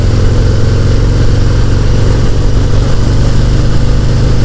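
A Harley-Davidson FXDR 114 motorcycle engine on a test ride, a loud, continuous deep rumble that holds steady throughout with no talking.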